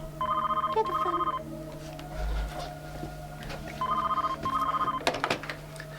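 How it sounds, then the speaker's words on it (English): A telephone rings in two double-ring bursts during a dark sketch-comedy scene. Each burst is loud and close, separated by a pause, with no talk over the ringing. "Get the phone."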